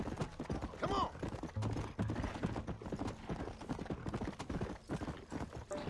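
Horse hooves clip-clop steadily through a ride in the Red Dead Redemption video game, a continuous rhythmic trot with a brief whinny near the start, moderately loud over game ambience.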